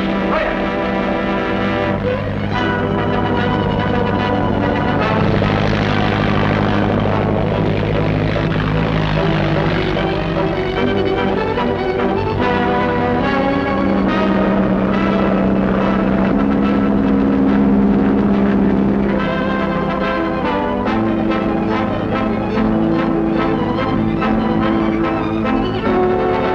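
A 1939-era propeller biplane drones loudly and continuously, its engine hum steady and close for the whole stretch, with a faint voice briefly in the background.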